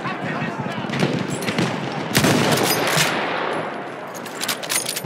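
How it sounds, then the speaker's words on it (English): Battlefield 1 combat with rapid gunfire, including sniper shots, crackling over a constant loud battlefield din, with sharp reports clustering in the middle. "I'm getting sniped at, don't know from where."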